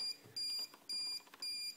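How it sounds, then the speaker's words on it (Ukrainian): A UPS unit's speaker beeps a low-battery warning in three steady, evenly spaced electronic tones, each lasting about a third of a second, fairly quiet in a calm room. "Зараз він пищить, типу, що акумулятор сильно розряджений."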